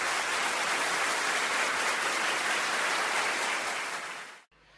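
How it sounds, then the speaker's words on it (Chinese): Thick, sustained applause fills a hall at a Teochew opera singing gathering for the Double Ninth festival. It stays loud and even for over four seconds, then cuts off sharply. "掌声有请"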